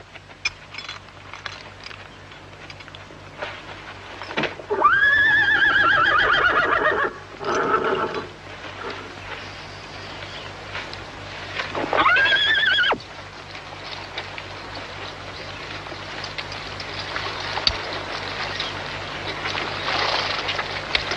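Horses being led to a river whinny loudly in two long bursts, and a shorter snort falls between them. Hooves clop and rustle faintly underneath against a quiet outdoor background.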